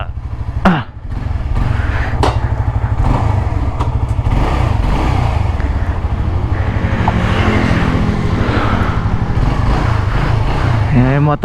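A motorcycle engine runs steadily nearby during a road test with a throbbing, rapid rumble, with a brief voice near the start.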